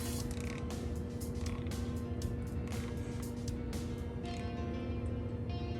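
A torque wrench on KTM cylinder head bolts, tightened in a crisscross pattern to 10 Newton meters, gives faint, scattered mechanical clicks and creaks over a low steady hum in a quiet workshop.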